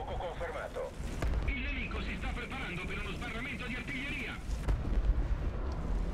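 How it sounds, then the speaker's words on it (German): Artillery fire in War Thunder during a tank battle with T-62 tanks: heavy booming blasts and a rumbling roar under steady game noise, while people talk in German. "Ja, Artilleria."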